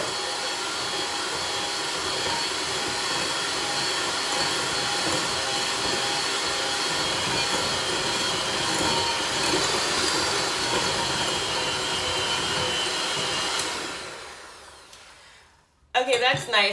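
An electric mixer creams chocolate and nut cookie dough made with oat flour, a loud, steady whirring drone close by that runs unbroken, then winds down and stops near the end, with a few brief knocks after.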